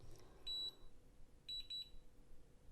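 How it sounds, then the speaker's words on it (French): Two quick pairs of high electronic beeps sound a second apart, small and clear against a quiet background. "Bip bip, ça veut dire c'est fini"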